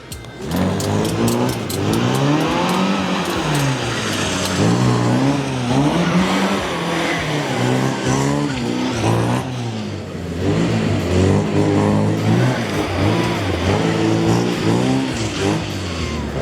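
A classic Mini's small car engine revs and whines repeatedly as it accelerates and slows while maneuvering, loud and close, with brief tire squeals.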